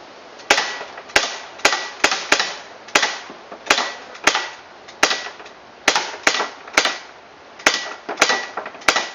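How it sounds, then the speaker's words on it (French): An SA9 CO2 blowback air pistol fires about sixteen sharp, close shots in an uneven rhythm, each crack followed by a quick metallic slide clack, with no talking. "Maintenant je vais vous montrer l'arme quand elle tire."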